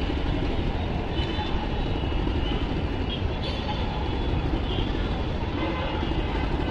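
A metro rail train passes by a building under construction, producing a loud, steady, broad rumble and rushing roar that holds unbroken from start to finish with no talking.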